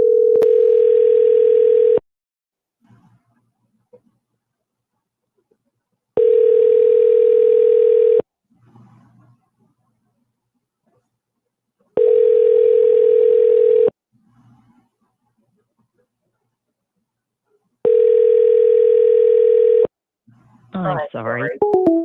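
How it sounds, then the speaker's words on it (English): A telephone line tone sounds while a call is placed: four loud, steady two-second tone bursts separated by long silent gaps, with faint sounds between them and a voice at the very end. "let me call them back to see what they answer"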